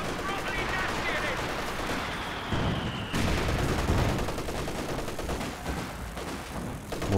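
Mortar fire in the video game Company of Heroes 2, during a 2v2 battle, comes as dense, continuous gunfire with heavy booming impacts layered over it, loud and sustained throughout.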